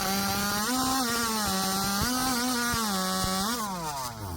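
A chainsaw in a timber-cutting race in Jackson, Alabama, engine screaming at high revs as it bites through a log, loud and continuous with slight pitch dips under load.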